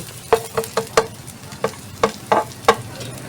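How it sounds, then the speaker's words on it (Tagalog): Garlic sautéing in a home pan while being stirred: a steady sizzle under a string of sharp, evenly spaced scraping taps from a utensil against the pan, close and fairly loud, with no talking. "So, igisa lang natin yung ating bawang."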